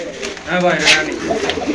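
A pair of silver Shirazi pigeons at a pigeon sale coos softly in a brief, close burst, with someone speaking over the birds.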